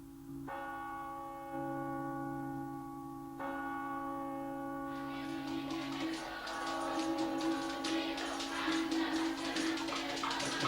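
Old workhouse bell ringing out with steady sustained tones, struck again partway through, then joined by a busier wash of louder mixed sound over the final seconds; no talking.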